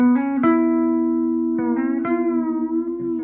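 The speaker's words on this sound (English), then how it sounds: "Almost like a detune." A sustained guitar tone through a Line 6 M5 digital delay with modulation, with a wavering, slightly detuned shimmer and a few plucked notes re-striking along the way.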